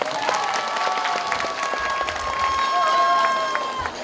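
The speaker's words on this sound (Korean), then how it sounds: "박수 한번." A large crowd at an outdoor election campaign rally claps steadily with some cheering, a dense wash of applause that continues loudly throughout.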